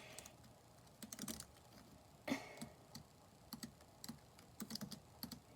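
Fingers tap on an OMOTON KB505 Bluetooth keyboard, giving quiet, close clicks in short irregular bursts with small pauses between them.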